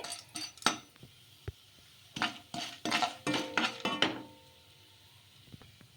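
A spoon scrapes and clinks against a pan while tempering spices and curry leaves are stirred, several distinct metallic knocks and scrapes in bursts, close and fairly quiet, with no talking.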